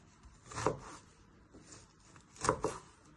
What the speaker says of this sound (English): Then you turn it back round and you just want to slice it nice and fine.